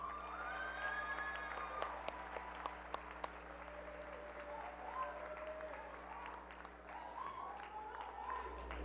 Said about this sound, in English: Let's give our camera crew people a round of applause.